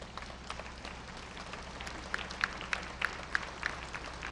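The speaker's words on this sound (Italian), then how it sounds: "Un lungo applauso accompagna poi l'uscita del feretro dalla chiesa." Applause from mourners as a coffin is carried out of a church at a funeral, a steady wash of clapping with a few sharper, louder claps standing out near the end.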